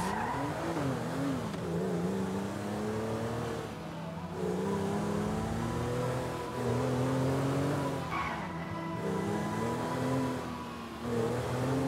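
A car driven in GTA V grand theft auto gameplay, with a steady engine drone and whining, sliding tire squeal that rise and fall continuously, loud and with no talk.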